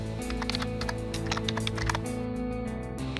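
Keys clack on a computer keyboard as a login is typed, a run of quick, close, irregular taps under a faint steady hum.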